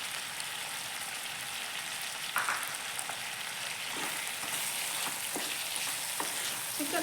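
Chicken fries for a gravy in a pan with a soft, steady sizzle and a few faint stirring scrapes, heard quietly and close.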